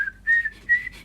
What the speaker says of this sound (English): Harry's playing the whistle.